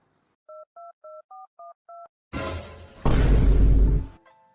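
Six short two-tone phone keypad beeps in a steady rhythm as a number is dialed, followed by a loud whooshing burst and a heavy rumbling roar, then faint tones.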